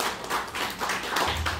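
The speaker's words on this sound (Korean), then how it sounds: "다시 한번 우리 박현미 교장 선생님께 박수 한번 부탁드리겠습니다." Audience applause for a school principal at a provincial council education committee site visit to an agricultural high school, a steady patter of many hands clapping at moderate volume throughout the short stretch.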